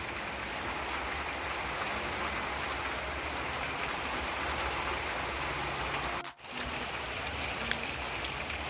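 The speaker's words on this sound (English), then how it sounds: "it is pouring down rain" Heavy rain pours down outside in a steady, dense hiss that holds loud and even throughout, broken only by a brief dip near the end.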